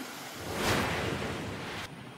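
Floodwater rushes through a street in Atimonan, Quezon, where overflowing water has entered houses; a loud, steady broadband roar swells briefly and then drops off slightly near the end.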